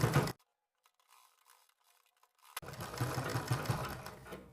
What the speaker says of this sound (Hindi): अब इसके ऊपर सिलाई लगा देंगे।